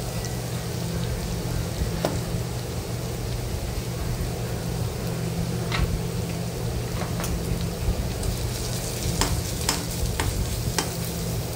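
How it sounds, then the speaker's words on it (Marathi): Garlic and ginger frying in oil for a brinjal bharit make a constant rain-like hiss. A few sharp taps and scrapes of a stirring spoon come through, with more of them toward the end, steady and close with no talk. "आता हे मध्ये जे तेल आलेलं आहे त्याच्यामध्ये आपण लसूण आणि आलं परतून घेऊया"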